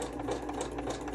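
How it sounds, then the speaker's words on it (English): A sewing machine runs a wide zigzag stitch across fabric for a fabric masterboard, a continuous close whirring with a rapid even mechanical rhythm and no speech. "I'm just using a zigzag stitch."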